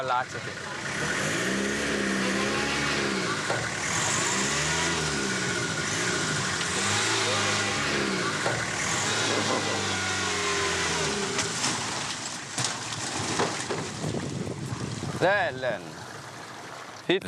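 Vehicle engine revving while stuck in water on a rough Madagascar route, a labouring engine rising and falling in repeated revs with splashing water, close and loud, with people talking over it.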